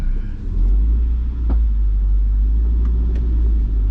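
A rebuilt Honda CR-V's engine drones loud and low inside the cabin while gears are shifted, its steady rumble briefly dipping and rising with a few faint clicks on top.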